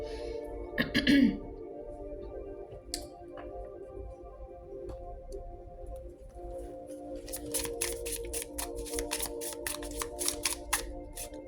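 Tarot cards being shuffled and drawn, with a cough near the start, then a quiet lull before a run of quick crisp riffling card flicks toward the end, close and alone.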